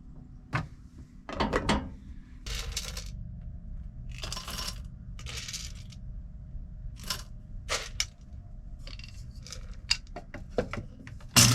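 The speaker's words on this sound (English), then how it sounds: "we don't want to grind this up too fine because we're just using a metal screen to keep the grinds" Coffee beans for a French press are ground at a camp-stove setup in irregular crunchy, gritty bursts, close and moderately loud, with short pauses between them and no talking.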